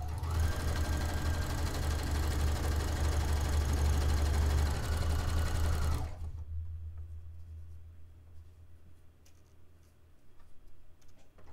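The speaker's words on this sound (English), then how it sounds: "just straight stitch it all the way down" Sewing machine running a straight stitch on bed-sheet fabric: a loud, fast, steady whirring buzz for about six seconds, then it stops abruptly, leaving quiet room noise.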